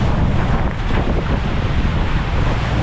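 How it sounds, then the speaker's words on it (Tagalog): Wind buffets a boat at sea as choppy waves wash and slap steadily close by, a dense, continuous roar throughout with no voices. "Medyo maalon."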